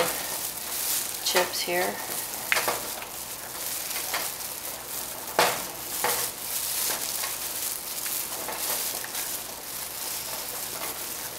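A spoon stirring a thick fudge mixture with chocolate chips in a pot, a continuous bubbling sizzle with occasional scrapes and knocks against the pan, and a person talking briefly.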